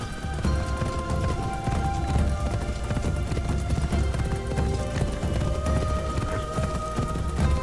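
Steady, fast hoofbeats of a horse galloping in the video game Assassin's Creed Shadows drum in a continuous rhythm for several seconds, loud and close, over a sustained musical score.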